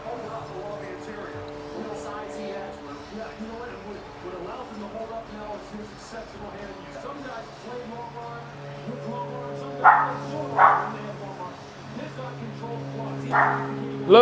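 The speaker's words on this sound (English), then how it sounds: "Lulu, stop barking." Dog barking indoors, a few short yips and barks rising briefly over someone talking and background sounds, moderately near.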